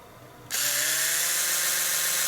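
An Oral-B Genius 9000 CrossAction electric toothbrush switches on abruptly after a half-second of quiet, then runs with a steady, loud, high-pitched motor buzz.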